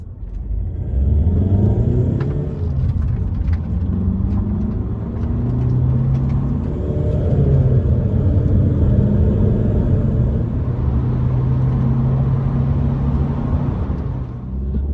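A Honda Civic Sedan diesel engine rumbles and accelerates through gears, pitch climbing and dropping with each shift, steady road noise underneath, heard from inside the cabin on a back road.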